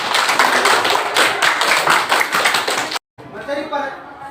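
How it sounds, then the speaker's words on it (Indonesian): Students in a school classroom clap together in a dense, loud burst of rapid applause lasting about three seconds, then it stops abruptly and a voice begins speaking. "Tepuk tangan dulu."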